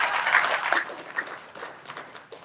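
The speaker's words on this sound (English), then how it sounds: "let's do a round of applause for Erie's best actor, Sean Clerken." Audience applause at a theatre's 2022 curtain call event, a short burst of clapping that swells at the start and then thins out and fades over a couple of seconds.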